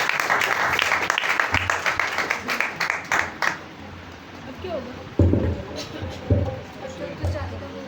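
At a Holy Thursday church service, the audience claps in a dense burst that fades after a few seconds, leaving scattered claps and murmuring voices.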